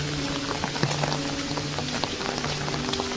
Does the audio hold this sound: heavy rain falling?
yes